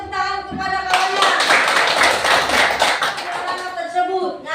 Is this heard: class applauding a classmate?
yes